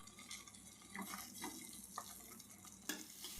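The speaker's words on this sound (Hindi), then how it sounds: "फ्लेम को बिल्कुल लो कर लेंगे और लगातार इसे चलाते रहेंगे। तो लगातार चलाकर इससे हमें खोआ निकालना है।" Milk thickening into khoa on a low flame is stirred continuously in a pan, with soft scraping strokes and a faint bubbling beneath, plus a few sharper utensil knocks near the end.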